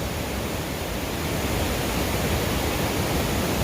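Big Creek rushes loudly beside a mountain hiking trail, a dense, unbroken roar of whitewater that fills the whole scene evenly and masks every other sound.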